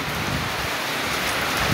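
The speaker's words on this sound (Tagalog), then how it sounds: "sumulo sa mga bukong ang ulan at lumaragasa ang ulan" Heavy rain mixed with hail pours down steadily in a dense, continuous roar, loud and close, with no voices.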